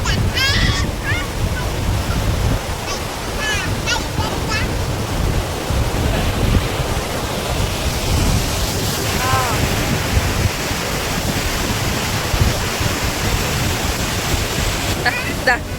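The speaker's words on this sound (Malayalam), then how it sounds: "നല്ല കാറ്റ്, നല്ല മഴ." Strong gusting wind roars against the microphone over heavy rain at Kallachira in Wayanad, continuous and loud, with faint chirps of birds or insects in the background.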